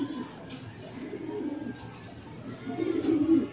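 Racing pigeons arrive at Batangas port during a fun race, soft cooing and low bird murmurs rising in bursts near the start, middle and end over a quiet outdoor background.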